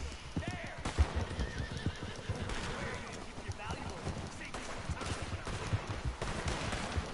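A horse in the Red Dead video game neighs and whinnies amid clip-clopping hooves, distant gunfire and busy game ambience, with someone talking over it.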